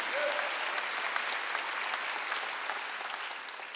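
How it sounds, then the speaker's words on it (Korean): A church congregation at a Wednesday worship service claps steadily, a dense, even burst of applause filling the room for several seconds before tapering slightly. "박수 한번 올리세요"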